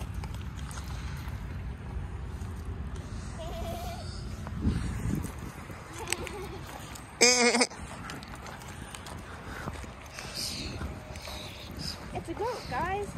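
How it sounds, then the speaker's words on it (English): Goats at a petting farm bleat now and then, including a sharp nasal cry partway through, amid ongoing chatter, footsteps and outdoor background noise. "It's a goat, guys."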